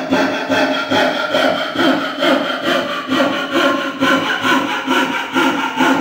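A coping saw cuts diagonally through wood in a steady back-and-forth rhythm of loud, close rasping strokes, roughly two per second, with no talk over it.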